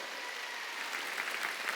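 A church congregation at a Sunday worship service claps together in a dense, steady wash of applause that holds evenly for a couple of seconds with no voices.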